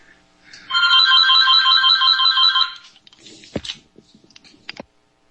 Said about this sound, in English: I think it's simply because Frank got a phone call and he's being quiet, Mike.